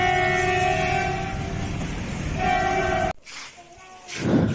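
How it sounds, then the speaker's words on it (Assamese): A freight train passes a station at Rowta, its horn sounding long and loud over heavy rolling rumble, then cutting off abruptly before a further short horn burst and wheel noise. "মালগাড়ী হয়, গৈ আছে"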